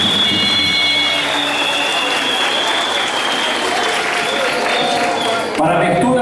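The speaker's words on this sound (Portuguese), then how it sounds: "peço a todos uma salva de palmas aos nossos homenageados" A crowd applauds honorees at a university graduation ceremony for accounting students, with loud, dense clapping filling the hall. A sustained tone sits over it, and a voice speaks as the applause fades at the end.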